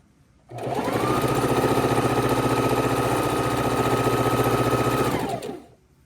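A sewing machine stitches quilt pieces in one continuous run, with a steady, close mechanical whir that starts abruptly, holds evenly for about five seconds, then stops. No one talks.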